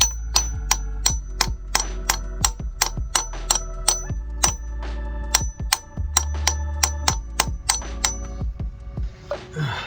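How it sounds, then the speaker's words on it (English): A socket being tapped with a hammer to seat the pilot bearing of a 302 engine during a flywheel and clutch install, a long run of sharp, evenly spaced metallic strikes, loud and close, with brief pauses between groups. "So you grab a socket like this. Just tap it in."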